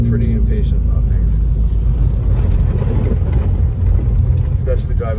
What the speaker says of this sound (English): driving on slush like this, holy moly